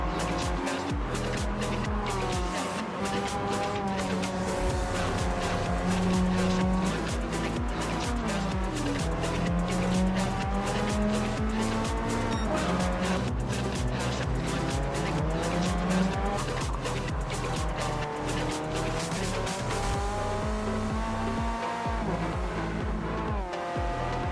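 Race cars such as a Supra, a Honda and Nissans in Gran Turismo 7 roar continuously with rising and falling engine revs, punctuated by tire squeals and skids through corners.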